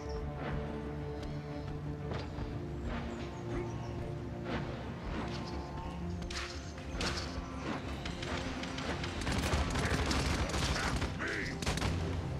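Rapid bursts of gunfire in the video game Paladins crackle over a busy backdrop of effects, with repeated sharp shots clustered throughout and growing louder toward the end.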